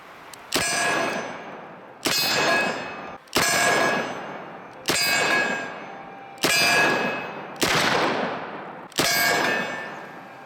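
Seven sharp .357 Magnum shots from a Smith & Wesson 686+ seven-shot stainless revolver ring out at regular intervals of roughly one and a half seconds, each a loud crack with a short ringing metallic tail.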